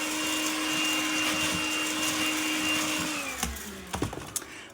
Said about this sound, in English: Just go over it with a vacuum cleaner.